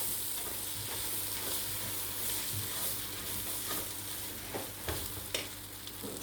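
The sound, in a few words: flour being toasted in a pot to thicken onion soup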